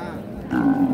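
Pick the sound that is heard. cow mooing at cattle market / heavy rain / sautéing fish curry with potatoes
cow mooing at cattle market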